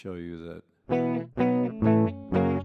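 Clean guitar tone through a Fender 5E3 amp emulation in Ableton Live with no reverb, a brief voice first, then four ringing strummed chords in steady succession, each sustaining then cut short, close and fairly loud.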